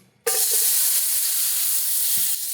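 Thin lemon slices sizzle in a hot pan for a chicken piccata sauce, a steady loud hiss starting abruptly after a brief quiet moment and continuing evenly, with faint stirring or shifting sounds underneath.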